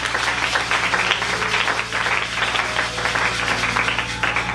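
A congregation at a French-language church service applauds and cheers in a dense, steady wash of clapping and voices over a low hum, continuing throughout.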